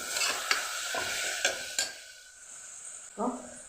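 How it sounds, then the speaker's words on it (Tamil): Tomatoes for tomato rice are mashed and stirred in a frying pan, with repeated scraping strokes of a spoon against the pan over a soft sizzle, close and fairly loud. "இப்போ தக்காளி போட்டு தக்காளி கொஞ்சம் நல்லா மசிக்கிட்டு"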